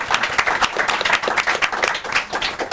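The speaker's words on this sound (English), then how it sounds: "Big round of applause for Ger." An audience at a Digital Society School showcase event applauds steadily, a dense and fairly loud wash of many hands clapping throughout.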